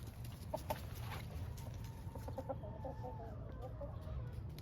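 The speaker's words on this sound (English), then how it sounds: "My rooster's out there, he's coming out already." Chickens and a rooster cluck softly in a backyard coop, a few short broken calls scattered over a steady low outdoor rumble, fairly distant and not loud.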